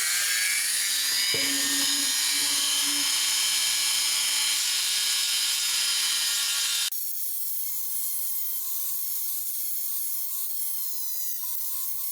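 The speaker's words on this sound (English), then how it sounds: "You probably wonder why I do that with the Dremel." A high-pitched Dremel rotary tool whines steadily while working on a Hot Wheels die-cast Firebird, then shifts to a thinner, quieter tone partway through, running continuously close by.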